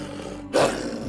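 A short, breathy roar of a great white wolf lunging with open jaws bursts out suddenly and loudly after a moment of low background hum, as a sound effect in a French fairy-tale audiobook.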